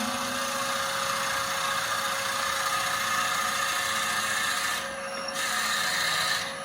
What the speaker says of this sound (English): I'm going to slow my lathe down a little bit, bring that up to there.